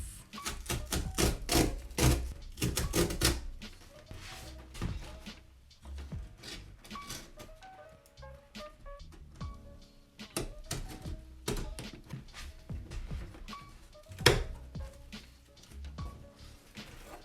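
A StickerApp sticker package is opened up close: crinkling, tearing and rustling of packaging, with scattered taps and thumps, fairly quiet overall.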